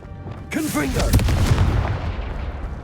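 A Confringo fire spell from Hogwarts Legacy bursts with a sudden loud explosive boom, followed by a rumbling, crackling tail that slowly fades over a couple of seconds.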